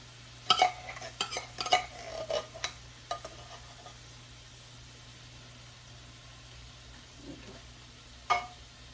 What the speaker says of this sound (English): So we're just going to stir this around.